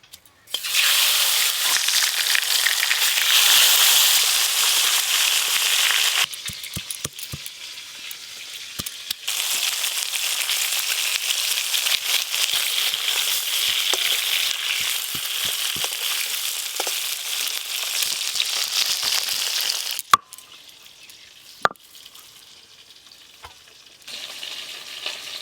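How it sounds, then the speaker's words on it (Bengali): Tilapia fish fry in hot oil with a loud, steady sizzle that drops in level partway through, then returns, with brief clinks from a utensil and no speech. "মাছগুলো ভালো করে ভেজে নেব।"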